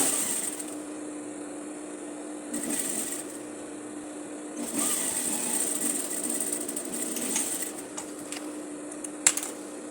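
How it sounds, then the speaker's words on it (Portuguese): Sewing machine stitching the side seam of a blouse, a steady mechanical whir close up with slight shifts in pace and a small click near the end, no talk. "Iniciei fazendo o retrocesso, arrematando a costura."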